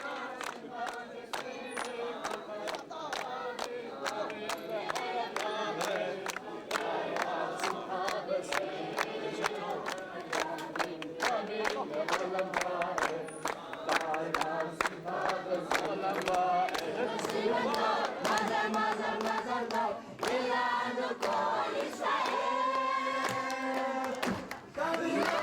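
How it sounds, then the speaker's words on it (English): A large crowd at Imphal Airport cheers, chants and claps loudly and continuously, with rhythmic sharp claps and voices shouting together throughout. "Then the dancing and cheering and tears of joy began"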